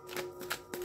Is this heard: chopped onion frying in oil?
no